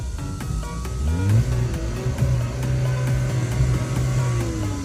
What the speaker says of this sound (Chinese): 准备打开钥匙门，建立油压，然后打火